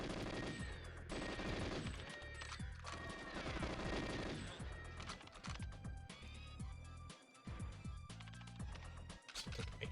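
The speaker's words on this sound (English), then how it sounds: "some of these enemies will shoot at you" Enemy gunfire in the GoldenEye 007 video game: dense, rapid bursts of automatic shots rattling almost continuously, loud and close, with brief gaps between volleys.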